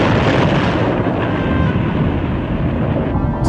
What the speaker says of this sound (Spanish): Pudo haber sido ese primer sonido el de una explosión de un torpedo aparentemente errante